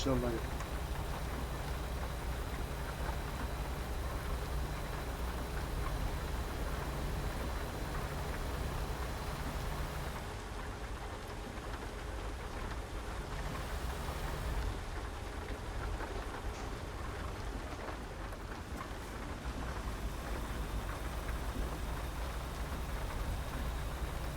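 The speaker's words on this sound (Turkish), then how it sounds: "Ne yağmur yağdı ya." Steady rain falling in American Truck Simulator, a dense continuous hiss across the whole stretch with a faint distant rumble of thunder, while a voice talks over it.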